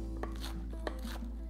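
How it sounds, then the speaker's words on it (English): A knife chopping lettuce on a board, a few quick close cuts in an uneven rhythm over a low steady hum. "So I'll start with cutting my lettuce. I'm going to chop them actually."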